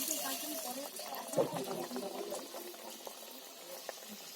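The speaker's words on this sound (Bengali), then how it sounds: "আমি তেলে ভেজে নেওয়ার জন্য তেল গরম হয়ে গেছে এবার আমি একে একে কড়ার মধ্যে দিয়ে দেবো" Langcha sweets bubbling as they fry in hot oil in a wok, a steady busy sizzle and crackle with a brief louder burst near the start, close by throughout.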